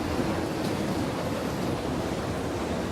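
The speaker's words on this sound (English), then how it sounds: "The sound of the wind is so strong, it feels like it could burst my eardrums." A strong wind gust roars in a video game, a dense, loud, steady rushing noise that fills the whole clip with no talk over it.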